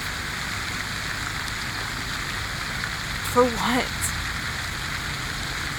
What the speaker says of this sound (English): Because that water is maybe too loud?